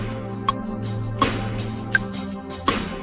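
A looping shaker-like percussion pattern with soft sharp clicks about every three-quarters of a second over a steady low tonal bed.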